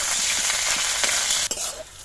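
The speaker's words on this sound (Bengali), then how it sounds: "পেঁয়াজটা হালকা ভেজে নিয়েছি।" Chopped onions frying in white oil in a kadai, a steady close sizzle with occasional stirring scrapes, briefly dipping as the pan is stirred.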